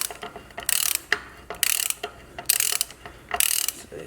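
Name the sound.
tightening Dana 60 axle bolts with a wrench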